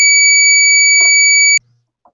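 A loud, steady electronic beep with a shrill pure pitch sounds close and continuous for about a second and a half, then cuts off abruptly, leaving faint murmurs.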